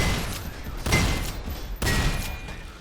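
Gunfire in the video game Synthetik 2 comes in two heavy bursts, each a loud sharp blast followed by a rumbling decay, close and alone without talk.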